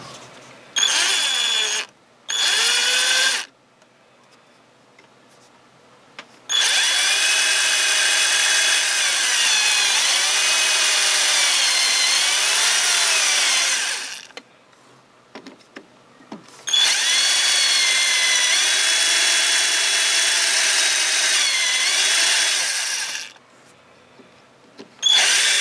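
A MINIQ BG-5156E drill press drills in several runs: short bursts, then two long stretches of steady, loud motor whine with cutting noise, broken by brief pauses, close up with no talk.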